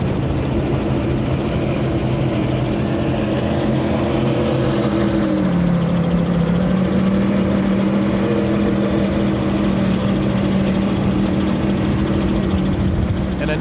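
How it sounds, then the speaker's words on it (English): A 44-foot Skater powerboat with twin Mercury Racing 1350 engines drones steadily at close range during a Key West poker run, a loud continuous roar with a shifting pitch and no talk. "of course John now in his 44, the only 44 skater on today's run, powered by Mercury Racing 1350s."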